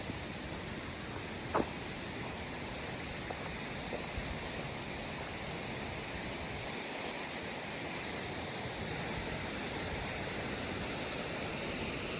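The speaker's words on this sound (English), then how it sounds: "Listen to the splash of water flowing down the spillway and the city falls away." Water splashes steadily down a lake spillway in a South Carolina state park, a continuous broad rushing roar close by, with a few faint clicks and knocks over it.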